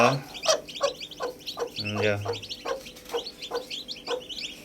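A brooding hen squawks loudly in repeated harsh bursts at close range, with a short spoken word in between.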